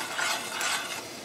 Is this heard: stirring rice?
yes